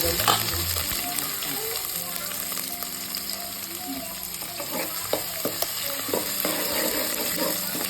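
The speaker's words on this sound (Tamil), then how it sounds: "கொஞ்சமாக கருவேப்பிலை, அப்புறம் இஞ்சி பூண்டு கட் பண்ணி வச்சதை ஆட் பண்ணிவிட்டு 3 மிளகாய் காரத்துக்கு" Curry leaves, ginger, garlic and three chillies fry in hot oil for beef masala, a loud close steady sizzle with occasional stirring clicks against the pan, and a voice speaks faintly at the start.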